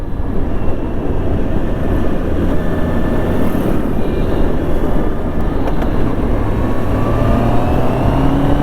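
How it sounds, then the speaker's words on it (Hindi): Honda CBR 650R motorcycle from 2022 accelerating toward high speed on an open road, heard as a loud, steady engine roar with heavy wind rush throughout, no voices. "रोड खाली आएगी तो मैं गाड़ी को स्ट्रेच करूँगा ताकि हमको हाई स्पीड पे पता लगे कि क्या क्वालिटी वगैरह आ रही है।"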